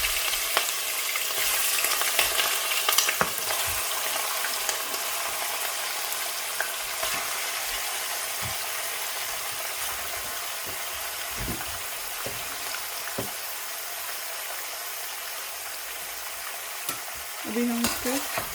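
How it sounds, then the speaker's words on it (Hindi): Meat sizzles in hot oil in a pan for an achar gosht dish. A loud, continuous hiss with occasional stirring knocks carries on steadily and close up, with no talk. "अब मैं मीट जो है इसको डाल दूँगी। आराम से डालेंगे क्योंकि ऑयल जो है वो गर्म है।"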